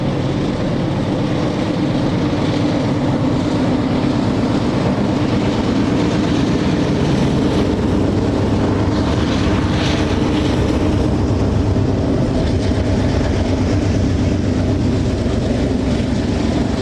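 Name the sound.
train passing on tracks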